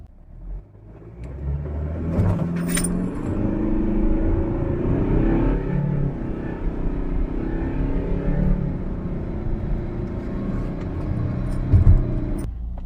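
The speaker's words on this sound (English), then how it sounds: "finally driving the Subaru Outback" Steady low road rumble and engine drone from a 2017 Subaru Outback diesel driving through a quiet country town, heard from inside the cabin, constant and moderately loud with a few small clicks and no talk.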